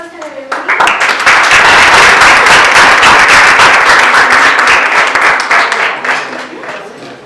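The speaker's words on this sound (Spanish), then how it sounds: "Yo les pido que les demos un aplauso, entonces, de bienvenida." Audience applause welcoming the speakers at a community talk on social problems and drug addiction, a loud, sustained round of hand clapping that swells quickly, holds for several seconds, then tapers off.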